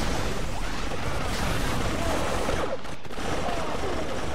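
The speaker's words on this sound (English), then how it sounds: "I'm just randomly shooting here" Star Wars Battlefront 2 blaster gunfire, modded Raxus Prime map, pours out in a dense, continuous barrage of overlapping shots with a roaring wash beneath and a brief dip near the end.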